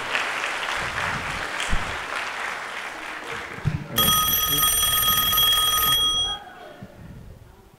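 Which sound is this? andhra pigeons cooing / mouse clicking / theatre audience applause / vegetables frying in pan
theatre audience applause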